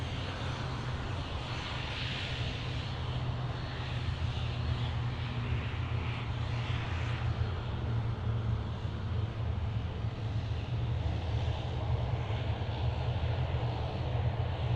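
A Royal Australian Air Force aircraft, a C-130 or F-35, makes an Anzac Day flypast over Sydney Airport, heard as a steady, broad engine roar that holds at a constant level for the whole stretch, somewhat distant and without talk.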